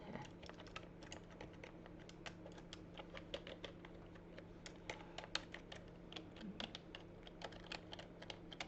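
Fingers tap on a computer keyboard in quiet, fast, uneven clicks, close but faint, with no talking.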